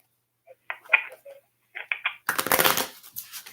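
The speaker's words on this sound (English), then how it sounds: "I'm gonna shuffle the cards." A few soft tarot card flicks and taps, then a brisk riffle of the tarot cards being shuffled, close and clear in a quiet room.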